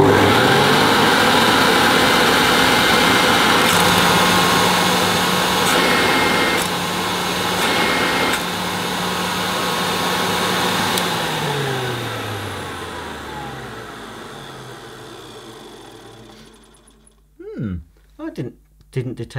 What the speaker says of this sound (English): I'm going to turn the machine on and you'll hear again the motor boost the suction once I've fitted